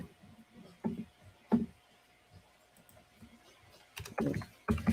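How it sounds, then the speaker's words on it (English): Typing on a computer keyboard during a live stream, sparse soft key taps broken by louder clustered bursts of clicking near the end, close and without speech. "I'm gonna be going back and forth like from typing"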